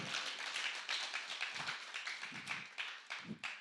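A small audience claps in scattered, uneven bursts during a live music performance and interview, quiet and somewhat distant, with individual hand claps standing out near the end.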